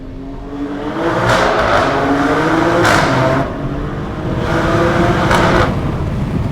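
A 2023 Maserati Grecale Trofeo sports SUV engine revs hard repeatedly, climbing and holding high against the rev limiter in loud bursts, with short dips between pulls.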